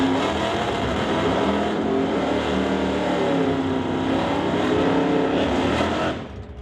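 A Chevrolet C10 pickup drag racing down the strip at an NHRA Summit ET bracket race: a loud, continuous engine roar holding steady at full throttle, then fading at the very end.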